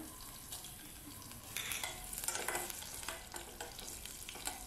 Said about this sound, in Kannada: ಇದು ಸ್ವಲ್ಪ ಸಾಸಿವೆ ಜೀರಿಗೆ ಹುರಿದ ಮೇಲೆ ನಾನೀಗ ಕರಿಬೇವನ್ನ ಹಾಕ್ತಾ ಇದ್ದೀನಿ, ಒಂದು ಬ್ಯಾಡಗೆ ಮೆಣಸಿನಕಾಯಿ ಹಾಕ್ತಾ ಇದ್ದೀನಿ ಒಗ್ಗರಣೆಗೆ